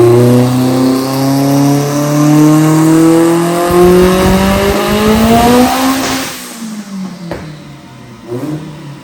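A boosted, tuned car on a dyno revs hard through a full pull, engine pitch climbing loud and near for six seconds before cutting off, followed by quieter sputters and pops.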